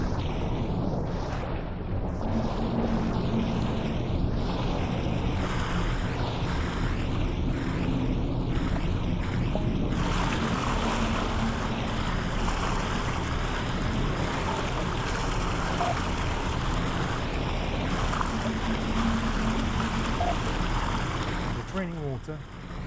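Submarine water pumps run in the video game Barotrauma, a steady low mechanical drone and watery rush that holds evenly for over twenty seconds, with a voice speaking over it at times.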